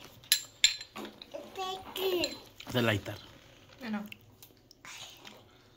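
A child eats sweets at a family sibling-festival gathering, with soft, close chewing and mouth sounds in short bursts among quiet background voices and occasional clinks.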